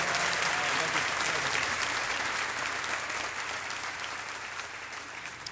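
A concert audience at a live worship music show applauds loudly and steadily, dense clapping filling the hall and tapering slightly toward the end.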